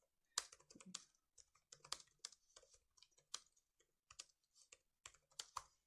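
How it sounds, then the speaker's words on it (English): Quiet, close typing on a computer keyboard, with irregular clusters of crisp key clicks and short pauses between them, and no voices. "I'm going to type some other things out."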